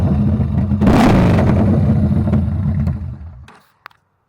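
A Yamaha Bolt motorcycle engine revs hard close by, a loud rising roar that holds for a few seconds, then cuts off abruptly into near silence, followed by a faint click.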